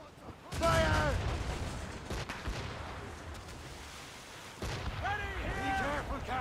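Ship cannons firing in the naval battle game Assassin's Creed Rogue, booming volleys that open with a loud cluster of blasts and rumble on, then more shots near the end, with shouted voices over them.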